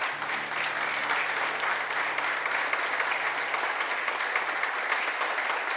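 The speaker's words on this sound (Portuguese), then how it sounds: "Vamos aplaudir o Senhor pela vida de Devani" Applause from a church congregation fills the sanctuary, steady and dense throughout, with a faint sustained hum underneath.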